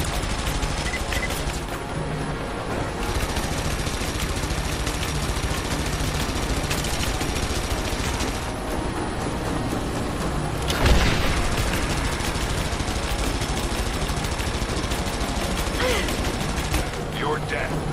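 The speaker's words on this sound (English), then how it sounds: "Starting to run out of ammo for the assault rifle." Sustained assault rifle gunfire and combat noise in the video game Rise of the Tomb Raider, a dense, continuous loud barrage with a sharper burst midway and no pauses.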